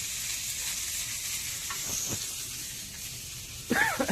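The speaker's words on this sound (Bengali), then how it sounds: "আর দেখো গাইস মাছ ভাজা হয়ে গেছে কমপ্লিট" Fish fries in a pan with a steady close hiss and sizzle throughout, broken by faint stirring taps and a brief voice at the end.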